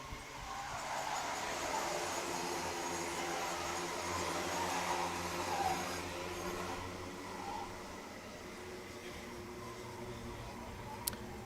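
A pack of Rotax Max go-karts racing in a Lithuanian event produces a continuous buzzing engine drone that holds fairly steady, blending several karts into one moderately distant wash of sound.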